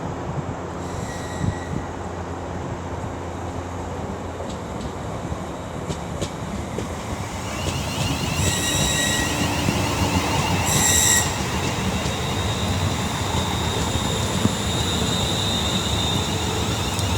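A Class 350 electric multiple unit pulls into Milton Keynes Central on the West Coast Main Line, its wheels squealing on the rails and clattering steadily as it rolls close by, growing louder midway with sharp screeching tones.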